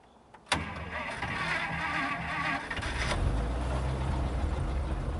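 A cold-running old Chrysler engine cranks after a sharp click, turning over for a couple of seconds before catching and settling into a loud, steady low idle.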